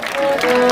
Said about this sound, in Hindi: एक बार दोनों हाथ उठा करके हमारे मुख्य अतिथियों के लिए जोर से तालियां बजाएंगे।